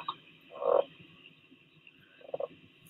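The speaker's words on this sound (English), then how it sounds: "And our southern leopard frogs sound like this." Two short creaky croaks from a southern leopard frog, one louder and one softer, over a faint steady background of night insects.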